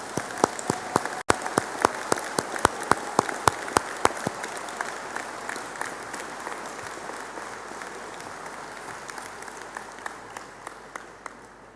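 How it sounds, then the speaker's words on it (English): A graduation ceremony audience applauds as a social care degree class stands, dense steady clapping with several sharp nearby claps standing out early, the sound slowly thinning toward the end. "please stand for a round of applause"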